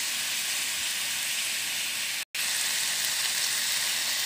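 Tomato pieces frying in a pan for a brinjal and mango curry, giving a steady, close, continuous sizzle and hiss with one brief dropout near the middle and no talk.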